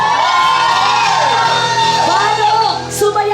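An excited crowd at a Sunday church cell celebration shouts and whoops together in a loud, sustained roar of many voices, with overlapping cheers rising and falling throughout.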